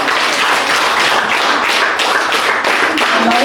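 A crowd at a children's birthday party claps steadily and densely, with the applause close and continuous throughout and no voices standing out.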